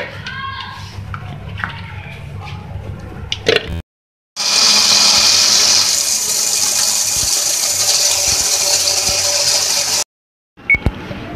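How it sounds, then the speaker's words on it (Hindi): A blender grinds yogurt and almonds for an almond lassi, a steady loud whir that runs for several seconds and stops abruptly, with someone talking before it starts. "सबसे पहले ब्लेंडर में हम ऐड करेंगे दही। इसके साथ आलमंड्स, बादाम, पहले हम इन दोनों को पीस लेंगे।"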